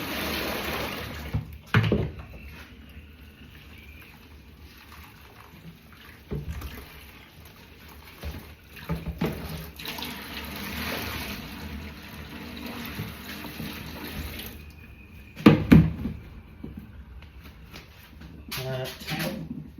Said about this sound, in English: Let's tip the water out.